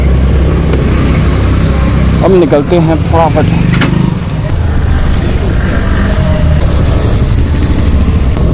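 A motorcycle idling and then pulling away on a road, its engine a loud, steady drone close to the microphone, with wind rush and someone speaking over it briefly.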